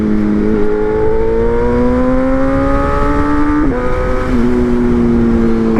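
A BMW M1000R Competition motorcycle with a titanium header and mid pipe revs hard up through the range, then drops sharply as it downshifts and climbs again. The engine note is loud, close and sustained, with no talk.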